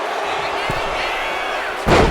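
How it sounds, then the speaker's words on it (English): A wrestler's splash landing on an opponent in a WWE video game with a no-disqualification match, heard as a sudden heavy slam near the end over steady arena crowd noise. "Oh, man, what a splash."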